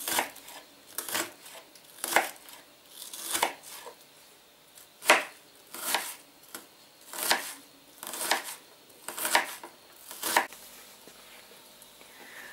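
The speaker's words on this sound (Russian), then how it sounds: "Лучок нарезаем" An onion cut into small pieces with a knife, about ten crisp chops spaced roughly a second apart, close and clear against a quiet kitchen background.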